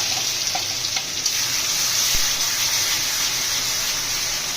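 Oil heating in a kadai (wok) for frying, part of making ridge gourd vorta, gives a steady close sizzling hiss that runs through the whole stretch with a few faint pops and no talking.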